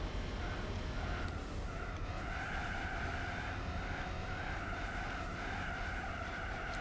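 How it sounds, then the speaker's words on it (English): Sustained tire screech in Gran Turismo 4 racing, a steady squealing tone running continuously over loud engine and road noise throughout, with no pause. "They really like the screeching tires."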